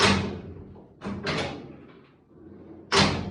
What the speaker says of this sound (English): these are the push button door handles